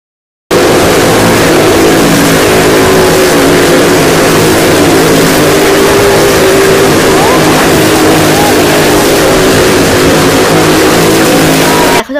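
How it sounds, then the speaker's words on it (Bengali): A car climbing at a fair stunt show, its engine revving loud and strained in a continuous drone, close and filling the whole stretch. "দেখো গাড়িটা অ্যাডজাস্ট করতে করতে কী সুন্দর উঠে পড়ছে আস্তে আস্তে উপরের দিকে"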